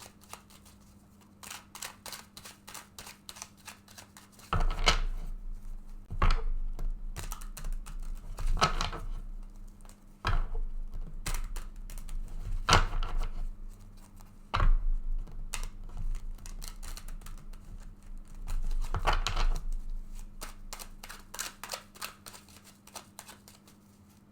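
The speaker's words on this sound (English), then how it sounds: "I'm going to go ahead and shuffle this deck several times now" Tarot card deck being shuffled over and over, with crisp riffling and tapping bursts in repeated rounds and short pauses between them, close and fairly quiet with no talking.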